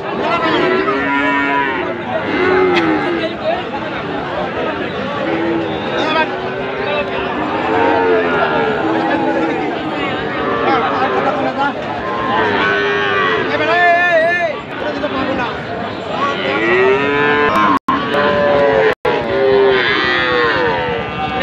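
A Sahiwal breed bull calf moos repeatedly at the Raniganj cattle market, its loud drawn-out calls rising over constant nearby talking and crowd babble.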